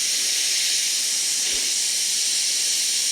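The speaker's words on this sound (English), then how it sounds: "Removing the Schrader valve will drain this thing right out." Air hissing out of an e-bike's back tire as its Schrader valve is removed, a loud, steady, close hiss that holds at full strength from start to finish, alone with no talking.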